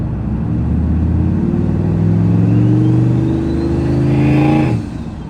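A rebuilt truck engine revs up with rising harmonic drone, then the turbo blow-off valve releases with a brief hiss near the end, loud and close with no voices.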